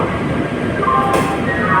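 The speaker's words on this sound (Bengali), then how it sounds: "এটা হচ্ছে হাওড়া ভদ্রক ট্রেন" A Howrah–Bhadrak train rumbles as it pulls out of Howrah station, a steady loud rolling noise with a faint high squeal partway through, no talk.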